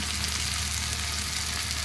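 Ground cumin fries in hot oil for a spicy crab curry, giving a dense, continuous sizzle close by. It holds steady throughout, with no talk.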